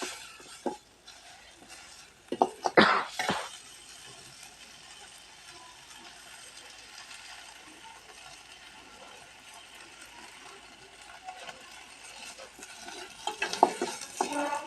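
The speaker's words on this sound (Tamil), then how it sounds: "இது தேங்காயும் போட்டோம் கூட வதக்கிக்கலாமா" Grated coconut is sautéed in a pan for a Tamil thuvaiyal, with a few sharp spoon scrapes early on, then a faint, steady sizzle that swells again near the end, with no voices.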